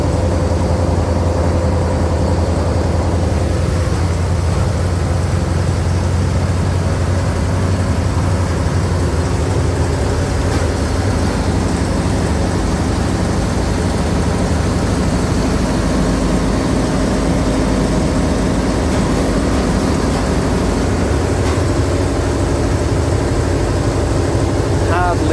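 Vintage bus engine, a Daimler Fleetline or Crossley, drones steadily from inside while riding along, a low continuous rumble with road noise throughout and faint talk over it.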